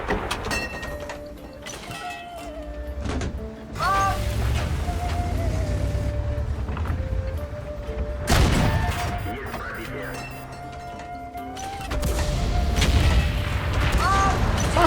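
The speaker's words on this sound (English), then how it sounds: "Fucking artillery! They're like gnats everywhere." Artillery shells burst repeatedly during a World of Tanks battle, with booming impacts that stand out around the middle and near the end, amid constant game engine rumble and some talking.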